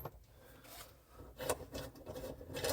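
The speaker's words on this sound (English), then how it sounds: "So I'm just going to move some of this stuff out of the way and unthread these bolts." Tools rasp and scrape while 8mm bolts are backed out on a Lotus Evora S under rebuild, producing soft irregular friction strokes up close with brief brighter scratches and no talking.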